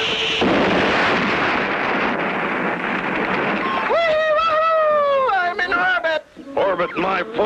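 A cartoon bomb goes off in the jungle in a 1959-60 Clutch Cargo episode: a loud, sustained blast roar that fades into wavering, whistling tones and shouting voices.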